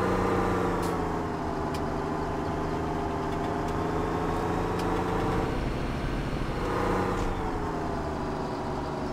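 A tractor engine works hard in the farming game Farming Simulator 17. It gives a steady, rumbling drone at moderate volume that swells slightly midway, with no voices.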